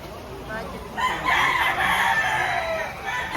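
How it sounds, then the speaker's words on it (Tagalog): A White Kelso rooster at a rainy poultry market in Lipa, Batangas crows once, fairly close and clear, a drawn-out call of about two seconds over a quiet background. "Anong tawag sa manok na yun? White Kelso."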